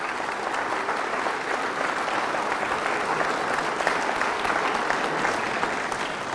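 Church congregation applauding loudly and steadily after a Gospel reading at Mass, a dense, continuous wash of many hands clapping for several seconds without a break.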